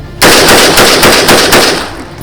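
Rapid bursts of Genesis Arms Gen-12 shotgun fire on a drill range, a dense string of about six loud, closely spaced blasts that fade slightly toward the end.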